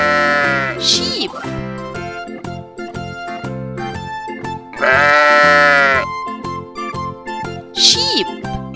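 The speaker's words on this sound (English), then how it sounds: "Sheep." Three sheep bleats, each a short wavering cry, come near the start, in the middle and near the end over bouncy children's background music.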